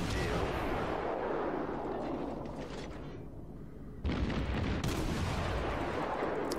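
German cruiser guns firing at the battleship Myogi in World of Warships, a heavy booming salvo rolling into a rumbling tail, a brief lull, then another loud blast and continued thunder, fairly distant-sounding with no talking.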